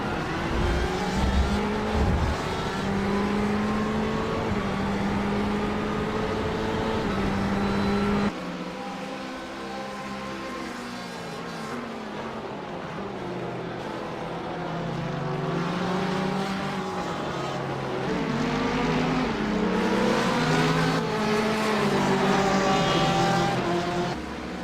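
Racing engines of GT3 and GTE cars in a racing video game whine steadily at high revs, with pitch climbing and dropping through gear changes and cars pulling close alongside, loud and continuous throughout.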